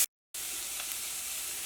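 Beetroot sizzles steadily in an open pan as it is stir-fried, a soft, continuous frying hiss heard up close after a short silent gap at the start.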